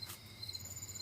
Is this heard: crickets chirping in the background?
yes